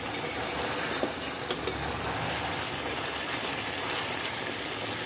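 Meat braised in oil and spices fries with a steady close sizzle as it is stirred in the pan, a few faint scrapes of the spoon poking out of the hiss, with no voices.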